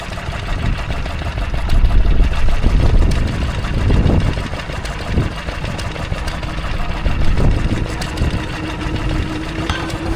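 A Wolseley WD9 stationary engine runs at an outdoor spring fair in Laughton, Sussex, a steady mid-pitched chugging drone with a few louder surges and background fairground noise.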